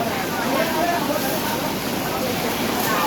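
Heavy rain pours steadily at a temple merit-making visit where elephants shelter under trees, a dense continuous hiss with no breaks, fairly loud and close.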